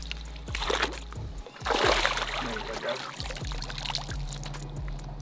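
Fish released back into the water after a bass fishing tournament, with splashes and pouring, sloshing water close by over several seconds and a burst of heavier splashing near the middle.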